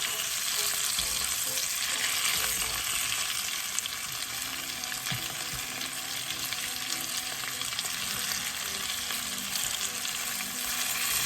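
Chicken cutlets sizzle loudly and continuously in a frying pan, a dense, even hiss holding steady from start to finish with no talking over it.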